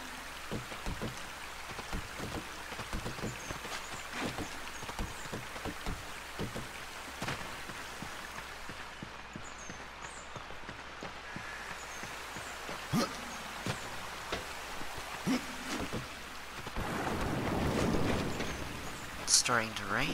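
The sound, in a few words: rain falling in the video game Darksiders II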